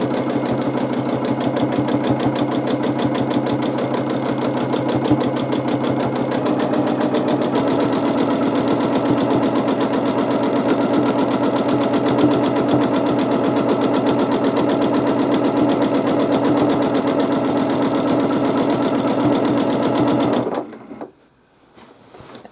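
A sewing machine runs steadily for about twenty seconds of free-motion quilting, its needle chattering loud and close in a continuous rapid rhythm before it stops abruptly.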